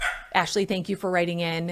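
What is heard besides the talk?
dogs barking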